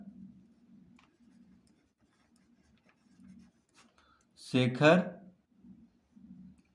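A pen scratches on paper in repeated short strokes during a Class 6 math lesson on number systems, with a voice speaking briefly over the writing midway.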